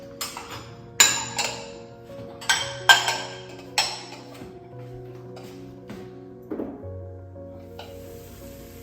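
Gravy for matar mushroom sabzi frying in a pan, a soft steady sizzle punctuated by several sharp metallic clinks and scrapes of a spoon against the pan, close and without talk.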